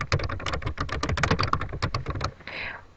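Rapid typing on a computer keyboard as a folder title is entered: a dense run of crisp key clicks at an uneven pace, close and clear, ending with a softer, longer key press.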